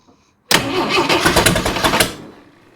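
A used Jeep 4.2 engine cranking hard after a moment of quiet, the starter chugging in a rapid uneven rhythm for about a second and a half before fading without catching, loud and close.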